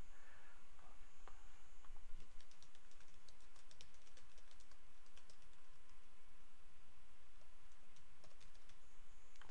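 Typing a search on a computer keyboard, a soft, quick run of key clicks in an irregular rhythm, close and quiet, with no talking.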